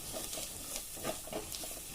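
Curry base of browned onions, masala and tomato puree sizzles steadily in a pan, a soft continuous hiss with faint patter and occasional light crackles, close by.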